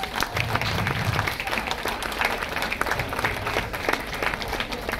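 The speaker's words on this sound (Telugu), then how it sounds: "గట్టిగా చప్పట్లు కొట్టండి ఒకసారి." An audience at a medical college awareness program on body and organ donation claps loudly and steadily, a dense, close wash of hands throughout, with faint voices mixed in.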